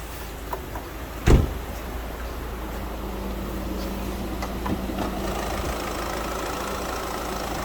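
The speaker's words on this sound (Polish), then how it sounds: "Silnik jest, pracuje." A Citroen C4 1.6 BlueHDi 120 hp diesel engine with a 6-speed automatic idling with a steady low rumble, one short thump near the start, otherwise an unbroken even drone.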